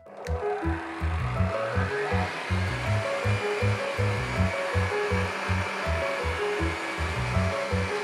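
Electric mixer whirring steadily as meringue is beaten in a mixing bowl, a loud continuous motor drone with a pulsing low hum running unbroken throughout.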